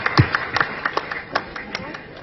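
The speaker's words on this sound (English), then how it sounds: "Please let us, add another round of applause." Scattered audience applause at a live World Day Against Child Labour event: a handful of sharp, uneven claps repeating across the moment rather than a full, dense ovation.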